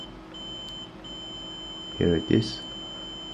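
A Rohde & Schwarz HMC8012 bench multimeter in diode test mode gives two short, fairly loud beeps in quick succession from its beeper while a diode is tested, with brief talk alongside and a steady electronic hum underneath.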